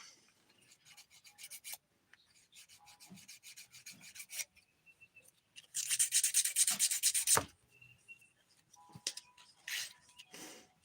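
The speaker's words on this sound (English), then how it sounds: "I'm going to flip this file to the 100 grit side just to shape it for now because this is a glitter nail." A 100 grit nail file shaping a glitter nail, a series of short rasping strokes in rhythmic bursts, close and clear with brief pauses between passes and a louder, sustained stretch midway.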